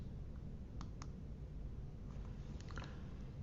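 A computer mouse gives a few faint, crisp clicks in two small clusters, quiet and close over a low background hum.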